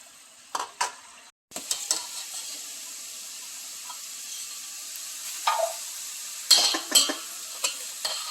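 Sweet Holi snacks frying in a kadhai of hot oil give a steady, quiet sizzle, with scattered light clinks and stirring as the pieces are lifted out.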